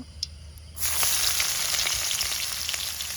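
Onion dropped into hot oil for a village-style chicken kosha bursts into a loud sizzle after a few faint clinks, then keeps up a steady close frying hiss with crackles, no voices.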